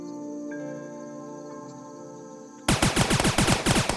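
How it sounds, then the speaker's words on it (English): Dual machine pistols in the video game Starbound start firing abruptly after a quiet tonal stretch, a loud, rapid, evenly spaced burst of shots that runs to the end. "let's switch to the dual machine pistols."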